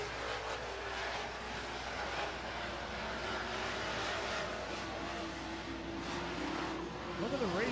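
Super truck racing engines drone in a steady, distant roar throughout, with a rising engine whine near the end and faint commentary-like talk mixed in.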